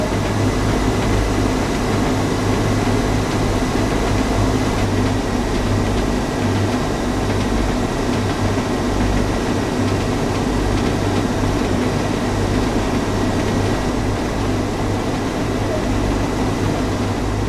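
Exterior sound of a Northern Trans-Pennine train in the Train Sim World video game, a loud continuous engine drone and hum with steady low rumble and no breaks.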